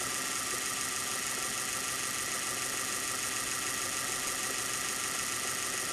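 A rewound Bosch 750W electric motor runs fast with a constant, even hum and buzz that stays loud and unchanging throughout.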